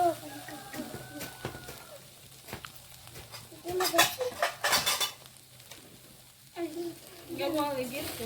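Cooked galider is scraped from a frying pan onto a plate, giving clattering metal-on-dish scrapes and clinks in short bursts, close and moderately loud, with people talking around them.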